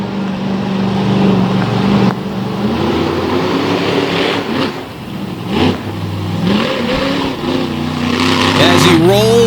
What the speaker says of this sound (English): you can hear the engine popping. You can hear it struggling as mud collects on that air cleaner.